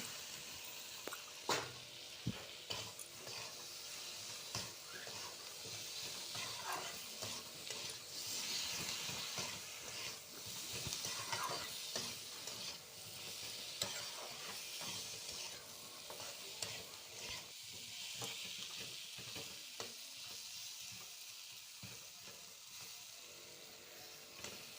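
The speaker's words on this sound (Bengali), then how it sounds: "সেই আলুটা দিয়ে এর মধ্যে আবার একটুখানি কষাবো" Fried potato pieces being sautéed with katla fish in a pan, a continuous crackling sizzle with frequent spatula scrapes and stirring knocks, close and fairly quiet, with no talking.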